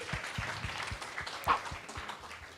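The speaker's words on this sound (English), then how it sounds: "Give this guy a round of applause." Applause from an audience at a talk on artificial intelligence, scattered and light, with a few sharp louder claps and a cheer near the middle, over low background murmur.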